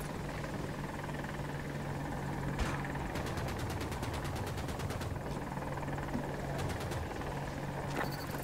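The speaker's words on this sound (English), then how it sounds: "this is the helicopter that spawned" Attack helicopter rotor drone with bursts of rapid gunfire in the Battlefield 2042 video game, a steady engine hum running throughout while several fast staccato volleys of shots break in and repeat.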